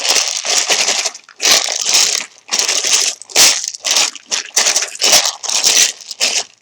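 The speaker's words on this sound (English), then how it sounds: "shuffling the charms can be a little bit loud" Loud, repeated bursts of rattling and clattering as a set of small charms is shuffled together, coming in quick uneven waves with brief pauses between.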